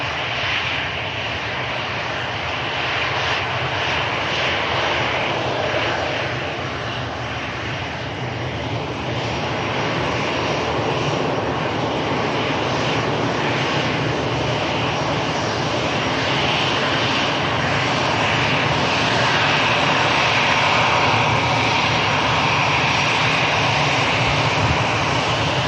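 A Pegasus airliner makes its departure roll at Manchester Airport, with a loud, steady jet engine roar that holds and slowly builds across the whole stretch. No voices are heard.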